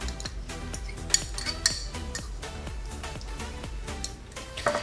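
A utensil repeatedly scrapes and clinks against a pan while passion fruit cocada is stirred, a steady rhythmic metallic stirring heard up close with no talking.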